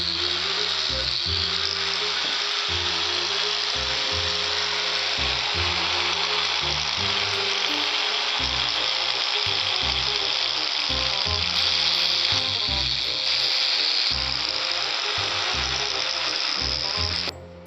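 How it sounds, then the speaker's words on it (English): Buffing wheel loaded with polishing compound whining steadily against the lip of a three-piece wheel, a loud continuous high motor drone with faint grinding texture throughout, no voices. "after you've gone over it one time with the same wheel and compound, do it over again a second time"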